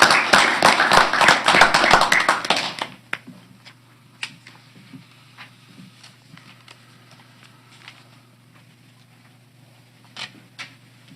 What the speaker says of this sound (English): So a round of applause for Aurora